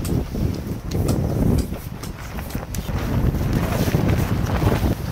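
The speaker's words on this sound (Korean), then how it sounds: "지금도 바람 많이 불잖아." Strong wind gusts buffet the microphone outdoors in winter, making a continuous low roaring rush with irregular thumps and surges throughout.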